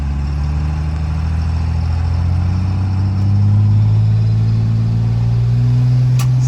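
An 1100-horsepower truck engine strains under a towing load as it pulls away in first gear, with a loud, close, steady low drone that rises in pitch and volume partway through.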